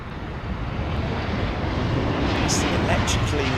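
An Airbus A330 departs with its undercarriage still down, a loud, steady broadband jet roar with wind buffeting on the microphone.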